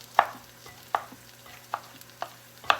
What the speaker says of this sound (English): can you hear the sizzling of the onions?